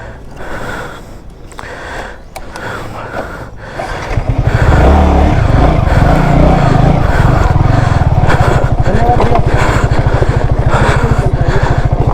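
A Yamaha R15 V3 motorcycle on a rough hill road: after quieter rustling, its engine fires up and keeps running with a loud, close, rapid pulsing idle that holds steady to the end.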